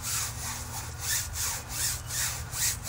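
A water-fed pole brush scrubs a window screen in steady back-and-forth strokes, a close, rhythmic rasping swish that rises and falls about every half second with no talking.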